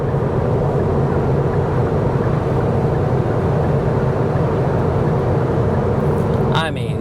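A Kia Niro with a dual clutch transmission accelerating, its steady engine drone and road rumble loud and continuous inside the cabin, with no clear break at the shifts.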